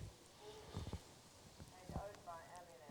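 A dressage horse in extended canter during a Grand Prix test sounds soft, rhythmic hoofbeats on arena footing, partly buried under a commentator's voice and low crowd murmur.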